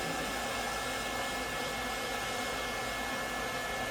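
A DUZ pet grooming dryer blows air in a steady, loud, unbroken whoosh during a dog grooming demonstration, with no voices.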